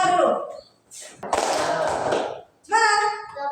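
A classroom of students bursts into a short cheer clap (tepuk semangat) lasting about a second, a dense flurry of hand claps between stretches of a voice talking before and after.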